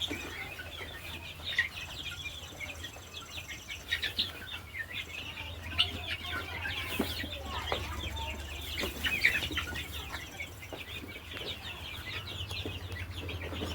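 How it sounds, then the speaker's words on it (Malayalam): Chickens for sale, mostly of a local breed, cluck and call throughout, with chirps and brief squawks layered over a steady low hum and no voices. "ഏഴം കോഴികളുണ്ട്"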